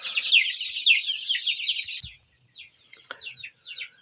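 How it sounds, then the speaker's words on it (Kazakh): One-month-old chicks cheep in a rapid, high-pitched stream of chirps, busy at first, then thinning into scattered peeps after a short pause, near and clear. "Бұл бізде балапандар."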